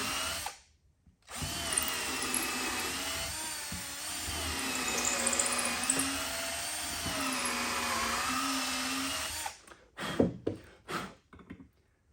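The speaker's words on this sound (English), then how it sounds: "I'm literally just putting the bracket in, making a pilot hole." A power drill bores a pilot hole into very hard wood for a bracket, a sustained whining grind close by that wavers in pitch as it strains, then stops in a few short bursts near the end.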